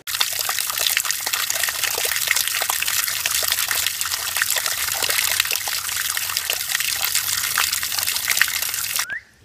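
Spring water at a stop in Pokagon State Park, Angola, Indiana, trickles and splashes steadily and fairly loudly throughout, a continuous close liquid hiss with no voices.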